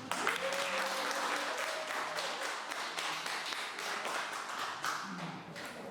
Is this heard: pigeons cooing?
no